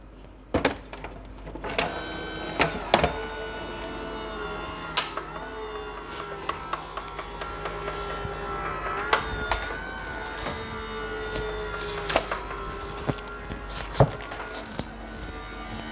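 A Sizzix Big Shot Switch Plus die-cutting machine cranking cardstock through its rollers, giving a steady run of mechanical ratcheting clicks and gear rattles with sharp louder clacks scattered throughout, close and alone.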